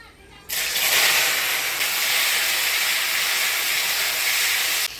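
Taro (kochu mukhi) hits hot oil with dried red chillies and whole cumin, bursting into a sudden loud sizzle that holds a steady hiss for several seconds before cutting off.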